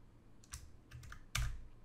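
Quiet typing of R code on a computer keyboard, a few soft separate keystrokes and taps in an irregular rhythm, close and faint.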